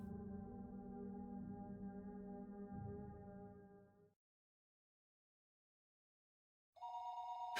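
A telephone in the visual novel game Higurashi When They Cry rings with a sustained bright electronic tone, stops for a few seconds of silence, then starts ringing again loud and close.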